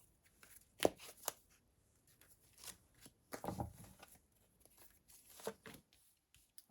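Tarot cards are shuffled and handled in a few quick, crisp bursts of riffling and sliding, close and fairly quiet, with pauses between.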